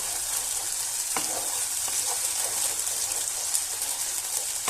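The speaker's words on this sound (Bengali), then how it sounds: "এবার মশলাটাকে কিছুক্ষণ কষিয়ে নেব।" Spice masala sautés in a pan for a vegetarian cauliflower dalna, giving a steady, close sizzle broken by a few scraping stirs. No one speaks.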